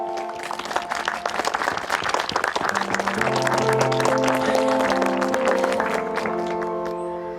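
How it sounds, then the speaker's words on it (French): An audience applauds warmly for the fairies at an event in a French film, with dense sustained clapping throughout and a soft musical backing rising beneath it. "je vous demande d'applaudir chaleureusement les fées et Emilia Wood"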